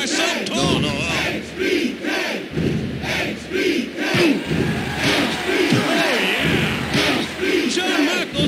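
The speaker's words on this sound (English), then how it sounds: "The crowd goes crazy. I can hardly hear myself talk." A roaring arena crowd in the WWF Warzone PlayStation wrestling game, a loud, continuous wall of chanting and yelling that surges and dips throughout a Bret Hart versus Shawn Michaels match.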